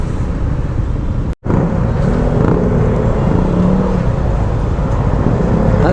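Steady roadway traffic of cars and motorcycles in a Philippine street jam, a continuous loud engine rumble and drone with passing vehicles, broken by a very brief dropout.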